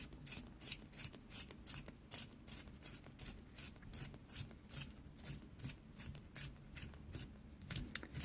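A Mono 100 HB pencil is ground in a sharpener, giving steady rhythmic scraping strokes, roughly two per second, close and clear with no talk over them.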